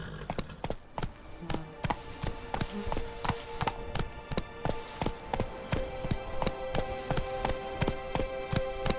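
Steady, rhythmic hoofbeats of a galloping horse in the video game The Witcher 3: Wild Hunt, a continuous clip-clop pattern with sharp repeated thuds over a constant background hum.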